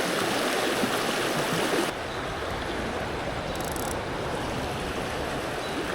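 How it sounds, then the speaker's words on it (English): Water rushing steadily down Little Mahoning Creek, a small stream running fairly full late in the season, a continuous broadband babble heard up close and alone, slightly softer after the first two seconds. "I'm impressed with the amount of water still in this stream."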